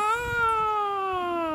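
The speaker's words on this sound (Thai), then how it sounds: "แมวมาแล้ว" A house cat gives one long, drawn-out meow with a slowly falling pitch, close and clear, lasting the whole moment with no talking over it.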